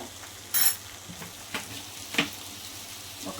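Soya chunk biryani masala frying and being stirred in a pan, a steady soft sizzle with a few brief scraping strokes, close and fairly quiet, no talking.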